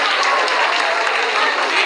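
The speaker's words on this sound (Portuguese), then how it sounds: "Aplaudan más" A crowd applauding, dense and sustained clapping filling the whole moment at a fairly loud level.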